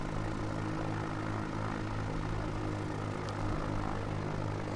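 Light propeller aircraft rolling along a runway, its engine a steady close drone with layered harmonic hum that holds even throughout, no voices.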